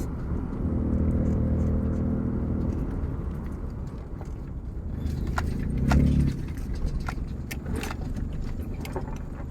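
A turbocharged car engine idles and revs with its blow-off valve switched off, a steady mechanical drone that swells near the middle, with light metallic clicks and jingles on top.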